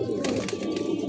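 Pigeons cooing in a home loft during hot weather, some of them sick, a soft continuous low murmur of several birds close by with no talking.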